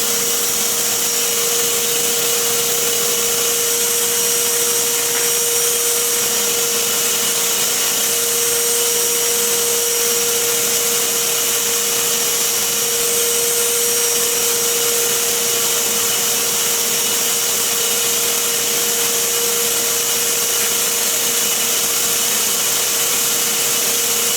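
A Shop-Vac wet/dry vacuum runs continuously while sucking debris off a shop table, a loud, close, unbroken motor roar with a steady whine held for the whole span and no talking.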